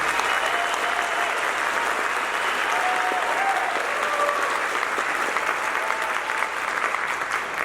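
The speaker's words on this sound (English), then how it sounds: "Would you please give them a big round of applause?" A school band concert audience applauds steadily and fairly loudly for the whole stretch, a dense wash of many hands clapping with a faint murmur of voices underneath.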